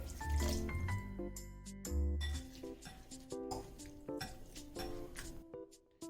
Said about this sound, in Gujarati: તેની અંદર આપણે પાણી નાખી અને તેને બરાબર વોશ કરી લઈશું